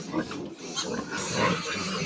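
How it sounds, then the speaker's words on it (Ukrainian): Piglets grunt and squeal close by in a busy, overlapping chorus, with a voice talking faintly in the background. "Ось такі от ще одні наші поросятка"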